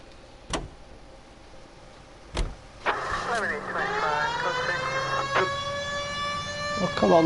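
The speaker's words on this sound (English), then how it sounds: "We have a siren." Police car siren in the video game LA Noire wails in rising and falling harmonic sweeps from about three seconds on, over engine rumble, with a few sharp clicks and occasional talk.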